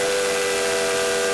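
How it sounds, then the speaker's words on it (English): A cartoon steam train's three-chime steam whistle blows loudly and steadily, a sustained booming chord with airy hiss held for the whole stretch. "He blew his 3-chime steam whistle as loudly and as boomingly as he could."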